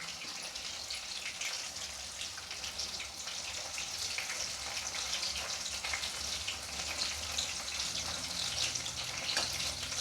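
Shallots and a sprig of curry leaves sizzle steadily in hot oil for a tamarind kuzhambu with cluster beans, a continuous close frying hiss with scattered crackles and no talk.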